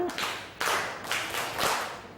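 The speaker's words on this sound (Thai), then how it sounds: "ปรบมือห้าครั้ง" Several synchronized group claps from a class of primary schoolchildren, each a broad, slightly smeared burst of many hands, coming at a steady rhythm of about two per second in a reverberant room.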